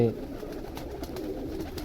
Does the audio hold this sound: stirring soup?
no